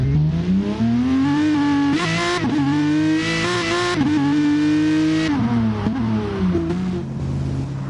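GT race cars pulling out of the pits at the Red Bull Ring in a racing game give a loud, close engine whine that climbs and drops with each gear change, rising repeatedly under steady acceleration.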